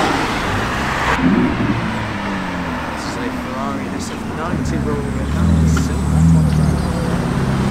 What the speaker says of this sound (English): There's that cracking E39 5 Series M5 BMW that we saw at the last meeting here at Combermere.